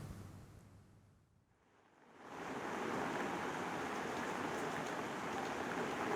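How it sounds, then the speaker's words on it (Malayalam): Heavy monsoon rain pours down in Wayanad, Kerala, rising after about two seconds of near quiet into a dense, steady hiss that holds to the end, with no voices. "മഴ ശക്തമായി തന്നെ തുടരുന്നൊരു കാഴ്ചയാണ് നമുക്കിപ്പോഴും കാണാൻ വേണ്ടി സാധിക്കുന്നത്"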